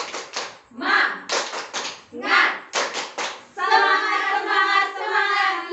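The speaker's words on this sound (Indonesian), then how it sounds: "Tepuk semangat." A group doing tepuk semangat, a rhythmic patterned hand-clapping chant, in short bursts of claps mixed with voices calling out, followed by a stretch of sustained chanting or cheering.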